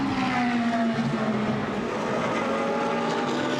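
GT race cars at Misano circuit roar past in a continuous loud blare, engine notes sliding downward as they pass, with no voices over the racing noise.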